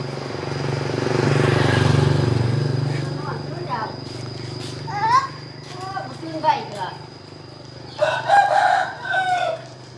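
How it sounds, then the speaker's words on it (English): A rooster crows nearby amid clucking chickens and outdoor background hum in rural Laos, with people's voices and a rumbling engine passing in the distance. "Yep, chickens and roosters and dogs and things."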